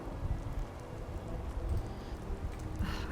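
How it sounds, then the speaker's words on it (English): Steady rain falls in the video game Fallout 4, a dense, even patter that fills the whole stretch at moderate level, with no voices over it. "just love that cozy rain"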